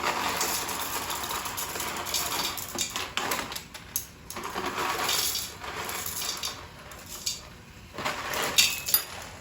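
Dry pasta poured into a metal pan over onions and cooked protein, giving irregular clinks, rattles and scraping bursts with quieter pauses between them and a sharper clatter near the end, with no voices.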